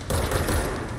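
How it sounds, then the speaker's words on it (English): Dense automatic gunfire from the video game Control, a loud continuous burst that fills the whole moment with no gaps. "Shooting at me."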